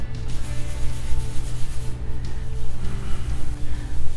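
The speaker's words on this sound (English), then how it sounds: "let's go ahead and see what happens when we just go ahead and give it some scrubbing here" Microfiber cloth scrubbing a baking soda paste over a mineral ring stain, a steady close rubbing swish with a low continuous hum underneath.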